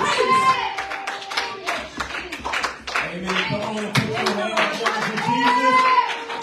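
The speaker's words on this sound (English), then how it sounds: "Go ahead and clap your hands." A church congregation claps along in a steady rhythm during a worship service, the sharp hand claps mixed with voices calling out and talking over them.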